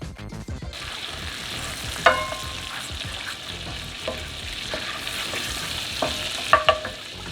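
Butter melting over lowered heat in a pan for a lemon butter sauce, giving a soft continuous sizzle with occasional light clinks and scrapes, close and fairly quiet.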